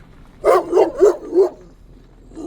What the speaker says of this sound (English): Man, that dog's big.